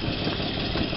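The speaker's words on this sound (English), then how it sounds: "It'll be blowing the exhaust there, isn't it?" A 4-litre Vanden Plas Princess R engine with a blowing exhaust, a steady low idle rumble heard up close and alone, with no voices.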